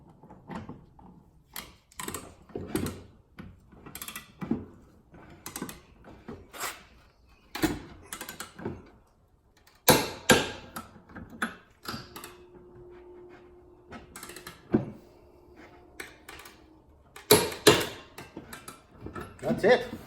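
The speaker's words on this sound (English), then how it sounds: "Let's get her torqued." A torque wrench tightens the blade bolt on a John Deere 1026R tractor's 60D mower deck, with scattered metallic clicks, clanks and tool handling close by, plus a brief tonal hum and occasional talk.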